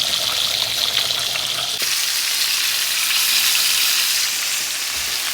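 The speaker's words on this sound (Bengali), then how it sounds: "আর এই পাশে মাছ ভেজে নিচ্ছি।" Fish fries in a pan with a loud, steady sizzle. The hiss shifts in tone partway through and carries on without interruption.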